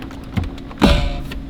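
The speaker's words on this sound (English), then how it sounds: "Popping out the radio." The car radio of a Lexus GX 460 pops out of the dashboard with a soft click, then a louder plastic snap and rattle, close and brief with no talking.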